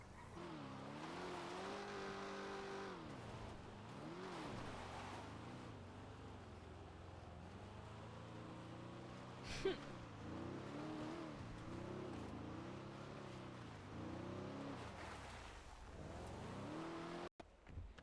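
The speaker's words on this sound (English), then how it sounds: "Oh my god, Lauren's car is stuck." A car engine in a video game revs loudly and repeatedly as the stuck vehicle strains, its pitch climbing and dropping in waves, with a brief sharp clank partway through and no one talking over it.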